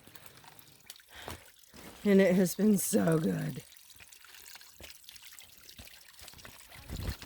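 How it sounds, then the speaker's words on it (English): Water trickling into a bottle at a water source along the Appalachian Trail in North Carolina, a soft steady pour heard close, with a person talking over part of it. "So this is literally where I'm filling up my water."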